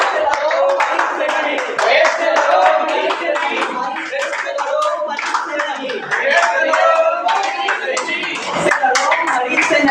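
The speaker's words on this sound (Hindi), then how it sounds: "ताली बजाओ।" An audience claps after a college street play on World AIDS Day, with dense, sustained applause that stays loud throughout, mixed with cheers and voices.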